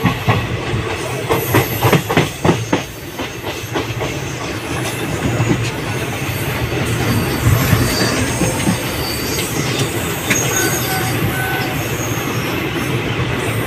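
The Sabroom Kanchenjunga Express 13173 rolls into Malda Town station, its wheels clicking rhythmically over rail joints at first, then settling into a loud, steady rumble with metallic squeals.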